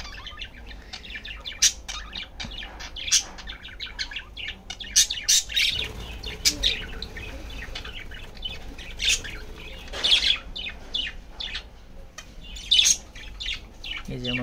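Young budgerigar chicks in a home pet bird setup chirp and squawk close by, with a busy, irregular stream of sharp high peeps and a few louder cries spread across the whole stretch.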